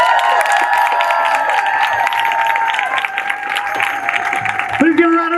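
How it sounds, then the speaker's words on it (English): Rally crowd clapping and cheering with whoops, a dense, loud wash of applause that carries steadily throughout and swells slightly near the end. "Please give a round of applause to Mayor Awad"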